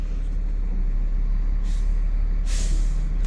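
Air hisses from the brake chamber of a parked truck with a broken chamber as it is put in gear, a short burst and then a louder release over the steady low idle of the engine.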